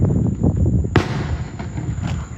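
Fourth of July fireworks boom and crackle close by, a rapid run of bursts followed by one sharp loud blast, then rumbling echoes and scattered pops.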